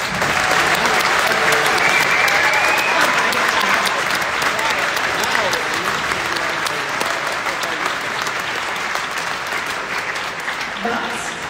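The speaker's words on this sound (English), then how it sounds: "So this applause is for you." Large audience applauding at the WorldSkills Competition 2022 closing ceremony in Bolzano, South Tyrol, a dense, loud, sustained wash of clapping from a big crowd that slowly eases near the end, with voices faintly mixed in.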